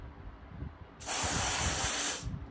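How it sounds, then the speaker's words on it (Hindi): Contact cleaner sprays from an aerosol can onto the threads of an iridium spark plug, a loud steady hiss starting partway in and running about a second and a half before cutting off. "मैं वापस से कॉन्टैक्ट क्लीनर लूँगा and I will spread it on the threads यहाँ पे"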